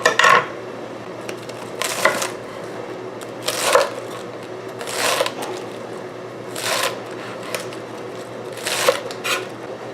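Knife cutting the bottom off romaine lettuce for a Cobb salad: a handful of crisp, evenly spaced cuts and taps on a board, moderately close and without talk.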